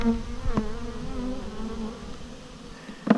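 Honey bees hum steadily in a close, droning buzz around a hive, with a few louder wingbeats passing near the microphone.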